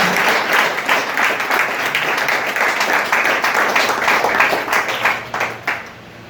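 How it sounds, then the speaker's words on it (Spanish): Church congregation applauding in praise, loud close rhythmic clapping sustained for about six seconds before tapering off. "Dale un aplauso al Señor Jesús."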